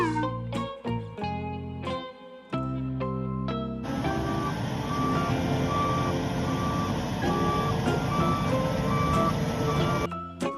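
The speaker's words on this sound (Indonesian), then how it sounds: "Truk molen, truk mixer." Reversing beeps from a cement mixer truck repeat at a steady rhythm, loud and close, after a short bright musical jingle, with a constant engine hum underneath.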